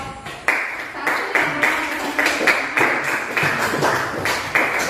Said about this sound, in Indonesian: berikan aplaus yang meriah untuk kelompok 1